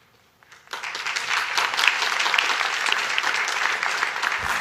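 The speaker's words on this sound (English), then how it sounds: "let's give a big applause for all the speakers and all the people still here, and Dr. Yelita." Applause from a conference audience at the close of a day of microbiome talks starts after a brief quiet moment, then swells into dense, steady clapping that lasts to the end.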